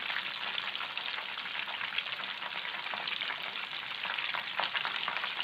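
Finger fish pieces frying in hot oil, Lahori-style masala fish fry, give a steady, dense crackling sizzle that stays loud and continuous from start to finish, with no voices.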